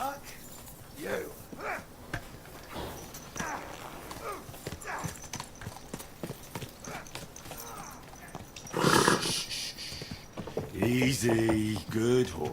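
In the video game Kingdom Come: Deliverance II, hooves clip-clop unevenly at moderate volume, followed by a loud horse neigh near the end, with voices speaking in between.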